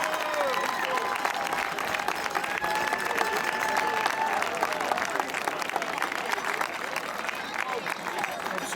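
A crowd applauds honored Hackettstown High School football alumni with a steady roar of clapping mixed with cheering and voices throughout.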